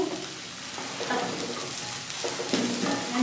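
Chopped onion and green chillies fry in a pan for egg fried rice, giving a steady close sizzle with faint scraping stirs and no voices.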